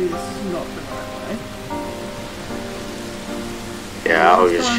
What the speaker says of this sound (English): It was raining because that was open.